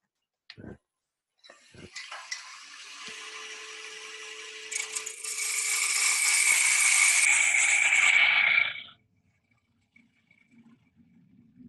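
A wood lathe facing off a turned workpiece at a woodturners' club meeting: a motor spins up, then a rising, hissing cut of the tool on wood grows louder for several seconds before stopping abruptly, close by.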